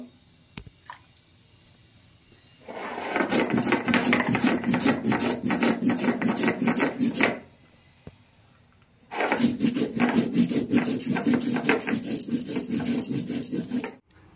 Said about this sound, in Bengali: জিরে লঙ্কা বেটে নেব